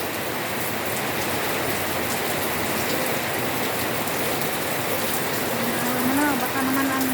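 Steady rain pours down during Typhoon Kristine with almost no wind, a dense even hiss throughout, with a faint voice briefly near the end.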